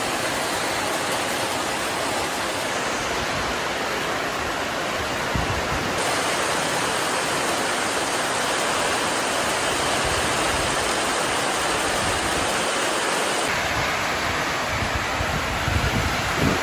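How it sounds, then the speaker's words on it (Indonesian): Heavy rain pours down in a jungle, a dense, loud, steady hiss of downpour that fills the whole stretch without a break and with no voices. "Hujannya sangat lebat, kawan."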